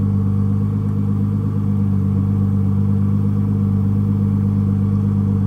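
A Lamborghini Aventador engine just switched into race mode holds a loud, deep, steady idle, an unbroken droning rumble with no voices over it.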